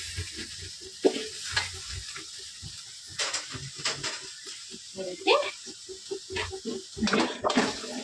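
Masala frying in hot oil for spicy chicken chops, with a continuous sizzle broken by stirring scrapes and spatters while a voice talks over the cooking.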